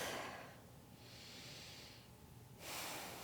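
Slow, steady breathing during a seated yoga lotus pose: a broad, soft airy inhale and exhale, close and quiet, filling the short clip with no talk.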